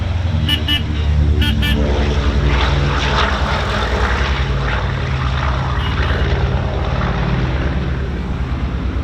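A World War II-era propeller airplane flies overhead at a World War II Weekend event, its engine drone loud and sustained with a steady throbbing hum throughout, while faint voices murmur underneath.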